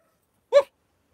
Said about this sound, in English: She's barking down there, little monkey.